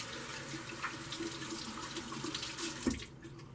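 Tap water runs steadily into a sink as a hand is rinsed clean of lather from a natural-hair shaving brush, a close continuous splash that stops abruptly near the end.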